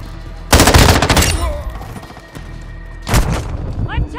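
Loud bursts of automatic gunfire in Call of Duty: Modern Warfare II team deathmatch with an M13 rifle, a long sustained volley followed by a second shorter burst, with in-game voice callouts mixed in.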